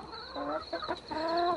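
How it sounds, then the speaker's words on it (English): Chickens and a rooster clucking close by, several overlapping throaty calls in quick bursts with a thin high tone running underneath. "this one's a rooster"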